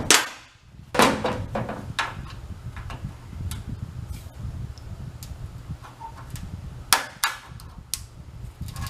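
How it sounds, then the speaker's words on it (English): Hammer blows peening a metal lip on a vintage Snap-on toolbox, a series of sharp metallic taps at an irregular pace, some hard and ringing, others lighter, close up with no talking. "Let's try peening this lip off of here."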